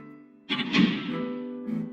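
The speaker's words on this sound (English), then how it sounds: "the heavy thud the door makes" A heavy door swings shut with one solid, close thud, its low boom fading slowly, followed by a smaller knock a moment later.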